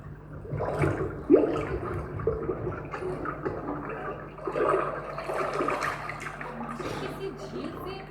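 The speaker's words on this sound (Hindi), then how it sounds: "किसी झील से पानी बहने की आवाज सुनाई दे रही है।" Water from a lake flows and splashes in a steady, moderately loud rush, with people talking over it throughout.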